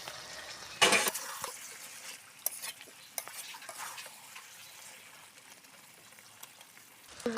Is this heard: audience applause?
no